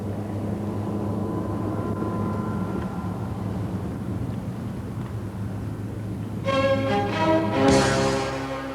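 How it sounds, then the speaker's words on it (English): Motorboats fitted with Volvo Penta Duoprop drives running on the water, one planing while a single-propeller boat strains to follow; a steady loud engine drone, rising near the end with a sharper tonal whine. "Now number 2, the one with the Duoprop, is planing, while number 1, with a single propeller, is still working to get there."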